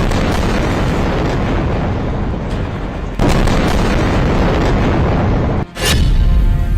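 Heavy explosions from Israeli strikes on Gaza rumble in dense, sustained booms, loud and continuous, with a sharper blast near the end and no voices.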